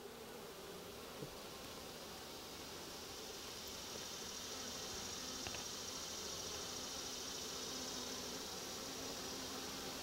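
Honey bees in a queenless hive buzz in a dense, continuous drone close to the listener, steady and fairly quiet with no voices.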